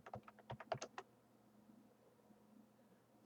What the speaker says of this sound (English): Type in the password here.